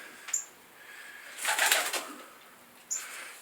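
Pigeons in a breeding loft, a short flurry of flapping wings in the middle between faint clicks and soft calls, close and fairly quiet with no talking.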